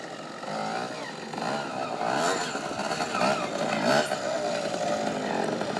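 A 125cc two-stroke trials motorcycle climbing over rocks, its engine buzzing nearby with repeated revving surges and throttle blips throughout.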